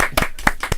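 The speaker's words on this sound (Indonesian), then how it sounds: "tepuk tangan dulu" Several quick hand claps in a podcast studio, a handful of sharp close claps spaced irregularly over under a second, with no talk.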